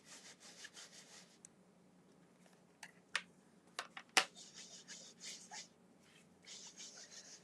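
A felt black ink pad rubbed against a paper folder, soft scratchy strokes in irregular bursts with a few sharper scrapes, close and quiet, no talking.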